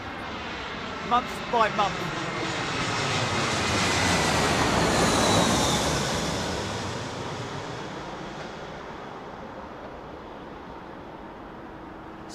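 An Airbus A320ceo airliner with sharklets at Heathrow Airport, its engine roar swelling to a loud peak as it passes and then fading away, with someone talking briefly at the start.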